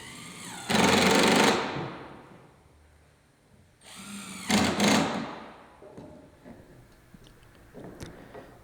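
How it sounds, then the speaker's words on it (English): Power drill pre-drilling screw holes in gazebo floorboards, two loud whining bursts of about a second each a few seconds apart, followed by faint clicks and handling noise. "Pre-drill the holes for the screws."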